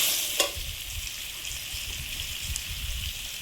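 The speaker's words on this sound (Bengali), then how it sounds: "আলুটা সুন্দর করে ভেজে নিয়েছি, এবার পটল দিয়ে আর একটু ভাজবো" Potatoes and pointed gourd frying in a pan give a steady hissing sizzle close by, opening with a sharp utensil knock and followed by soft, rhythmic stirring rumbles.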